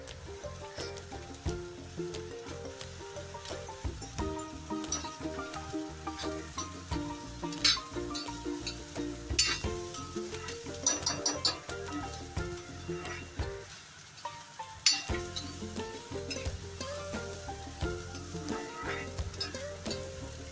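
Onions fry in a pan for a bitter gourd curry, producing a continuous loud sizzle with frequent stirring scrapes and clinks throughout.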